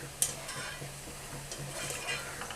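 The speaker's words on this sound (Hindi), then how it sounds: "अब हम इनकी साइड चेंज करेंगे और इस तरह घुमाते रहेंगे ताकि ये बराबर पकें सारे" Poha and potato fingers fry in hot oil over a medium flame while being turned in the pan, giving a steady close sizzle with a few brief utensil scrapes and stirring sounds.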